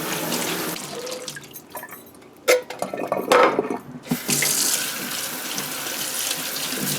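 Tap water runs steadily while canned pigeon peas are rinsed in a kitchen sink, with a few clattering knocks of the can or colander midway, then the flow continues alone.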